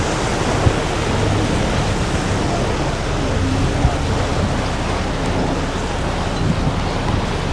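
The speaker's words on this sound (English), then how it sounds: "it's bloody windy out on the back deck of the May Gibbs" Strong wind buffets the open back deck of the May Gibbs ferry on Sydney Harbour, a steady, loud broadband roar of gusts and air rushing past with no break throughout.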